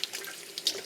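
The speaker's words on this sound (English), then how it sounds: "So let's go ahead and wash them out, wash my hands" Water runs from a kitchen tap into a sink while bowls and hands are washed, a quiet close hiss with a few small splashes and clinks.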